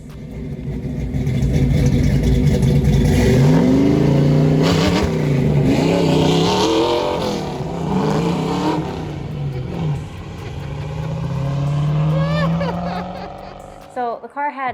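A 1969 Ford Maverick stick-shift street car with a new cam revs hard at the track, engine pitch climbing and falling through repeated loud pulls, with voices talking over the roar.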